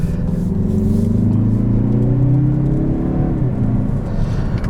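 A 2022 Mazda 3 Turbo hatchback engine revs up from inside the cabin in a loud, continuous drone that climbs in pitch, then eases back down near the end, with no talk.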